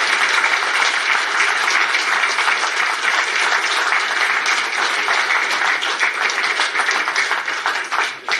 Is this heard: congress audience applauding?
yes